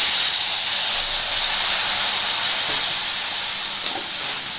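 Water hits hot oil seasoned with turmeric in a pan for a Bengali fish curry with potato and bori, setting off a loud, steady sizzling hiss that holds for several seconds and eases slightly toward the end, with no talking.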